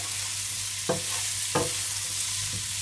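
A spoon stirs baby potato masala in a pan with the stove off, giving faint scrapes and knocks over a steady low hum, with two or three distinct strokes.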